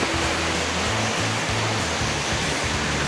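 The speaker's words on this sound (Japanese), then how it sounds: "高座の滝ですね" Koza waterfall on Mount Rokko pours steadily in a dense, loud, even rush of falling water, continuous and unbroken at close range with no voices.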